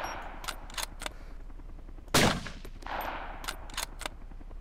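A single loud gunshot rings out in the survival shooter DayZ OverPoch, sharp and broadband, with fainter distant shots and clinks scattered around it.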